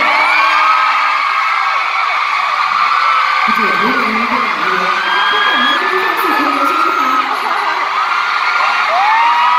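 Concert crowd at a show in Bangkok screaming loudly and continuously, a dense wall of shrill cheering and whoops that never lets up, with a voice speaking faintly beneath it.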